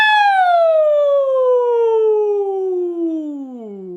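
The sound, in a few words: voice imitating a siren in a vocal exercise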